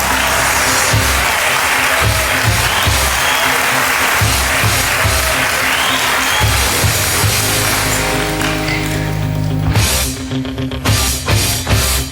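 A studio audience at a Turkish TV singing competition duel round gives loud, sustained applause. Near the end the clapping drops away as music starts.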